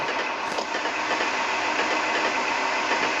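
A train engine in the Train Timulator railroad game rumbles steadily with a continuous clickety-clack of rolling wheels, loud and unbroken, with no voices over it.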